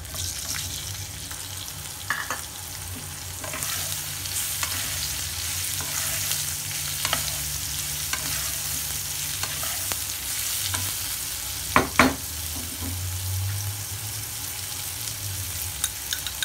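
Karela (bitter gourd) sizzles steadily in a hot pan with hing, with occasional scrapes and clinks of a spoon stirring, close and fairly loud throughout, no talking.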